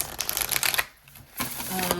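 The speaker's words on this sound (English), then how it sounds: "So let's shuffle some cards, see if we can get any additional information about this dream." Playing cards being shuffled by hand for a dream-interpretation card reading: crisp riffling bursts in two runs split by a short pause, close and fairly loud, with no talk.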